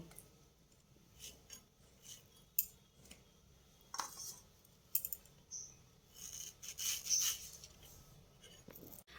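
A knife cuts ripe mango into small pieces for aam papad, making quiet, irregular taps and soft scrapes at close range with no voices.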